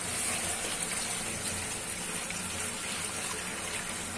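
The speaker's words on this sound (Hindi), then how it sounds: "इतना पानी डालेंगे कि ये अच्छे से गलेंगे" Water pours steadily into a cooking pot while beef trotters are prepared for paya in a pressure cooker, a continuous close gushing splash at moderate loudness with no talk.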